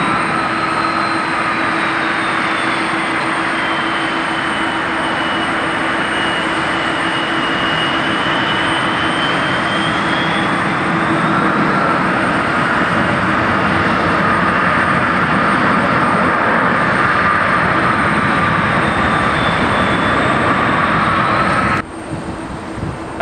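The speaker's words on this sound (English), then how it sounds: "Alaska 737 MAX 9 in from Anchorage." An Alaska Airlines Boeing 737 MAX 9 from Anchorage lands at Portland's PDX airport, a loud sustained jet roar with a slowly gliding whine, steady and fairly close throughout, then dropping off sharply near the end, with no talk.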